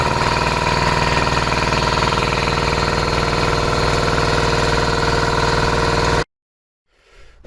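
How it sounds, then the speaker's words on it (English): An air compressor motor started in cold conditions runs loud and steady with a dense, rattling mechanical drone, then cuts off abruptly, leaving near silence before a faint sound returns at the end. "we're going to attempt to start the air compressor in the cold here."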